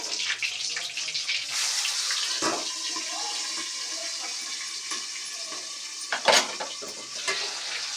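Onion and green chilli paste sizzle in oil in a pan, a steady close hiss with stirring scrapes and a couple of louder spoon clatters.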